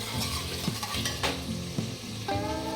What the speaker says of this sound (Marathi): छान आता एकत्र भाजून घेऊया आपण टोमॅटो निरगळला पाहिजे असं तेला